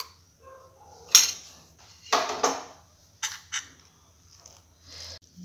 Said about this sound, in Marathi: तर अशा प्रकारे आपण हे पीठ भिजवून घेतलेले आहे.